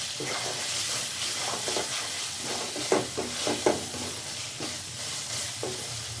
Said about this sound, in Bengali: ধনে গুঁড়া দিয়ে এটাকে আবার ভালোভাবে নেড়ে নিতে হবে